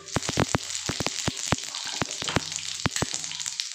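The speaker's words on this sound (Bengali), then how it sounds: "দেখুন তেল গরম হয়ে গেছে। আমি এর মধ্যে 1 চামচ মতো মৌরি দিয়ে দিলাম।" Fennel seeds, about a spoonful, crackle and sizzle in hot oil as they are dropped into the pan before okra is added, giving a dense run of sharp pops over a steady frying hiss, close and fairly loud.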